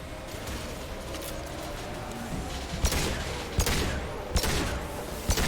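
Heavy gunfire rattles through a sci-fi battle in Mass Effect Legendary Edition: a dense, continuous barrage with several sharp, loud cracks punching through, close and without talk.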